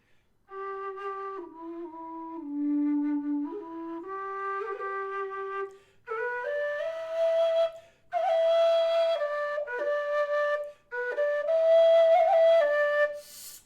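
A Wild Irish low D tin whistle plays a slow melody alone, its pure breathy tones sustained and stepping down, then rising into a higher phrase.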